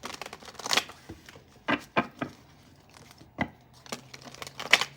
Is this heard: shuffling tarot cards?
yes